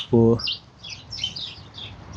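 A bird in a zoo enclosure gives a short harmonic call followed by a few faint chirps, with soft background noise throughout.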